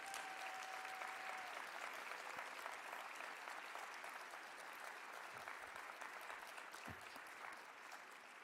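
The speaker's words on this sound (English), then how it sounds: "Would you give the Social Justice Alliance a round of applause?" An audience at a social justice alliance symposium gives a long round of applause, steady massed clapping at moderate volume that thins slightly toward the end.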